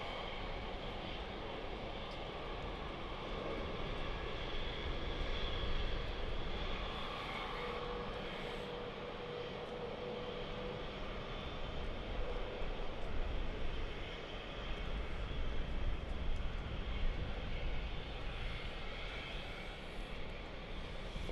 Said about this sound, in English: So this is an Embraer 190.